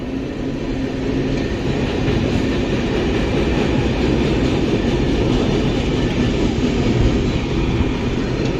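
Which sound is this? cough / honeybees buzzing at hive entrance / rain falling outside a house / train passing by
train passing by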